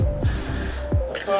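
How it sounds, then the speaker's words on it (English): Got to Be Glue Free hair spray goes on in short aerosol bursts during a wig install, a close, loud hiss broken by brief pauses, with no talking. "I'm going to spray the Got to Be Glue Free spray"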